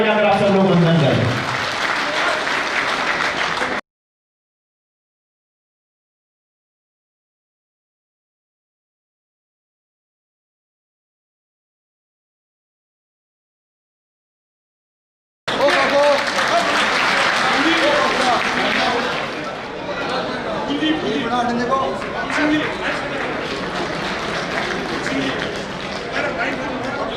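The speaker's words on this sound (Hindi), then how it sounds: "एक बार आपकी सत्यानंद जी का भी जोरदार तालियां बजाकर आप सब लोग वंदन करें।" Audience at a Shree Kheteshwar Ji Maharaj temple consecration festival in Kadapa claps loudly in a sustained crowd burst, broken by a long silent gap, then swelling again into dense, steady applause that gradually eases.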